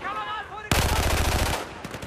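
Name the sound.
gunfire in video game Battlefield 4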